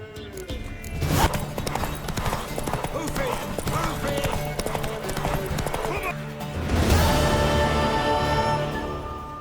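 A horse gallops in The Witcher 3 video game, its quick hoofbeat clip-clop running continuously and growing louder near the end. Characters talk over the hooves.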